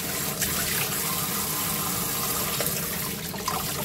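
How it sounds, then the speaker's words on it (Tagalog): Cold tap water runs steadily over vegetables being rinsed for Korean dolsot bibimbap, a continuous close gushing rush with no pauses and no talk. "kailangan banlawan ng malamig na tubig"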